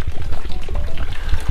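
Water poured and splashing into a container for cooking during a snowy Manaslu Circuit trek, a loud, close, continuous gurgling pour; no talk.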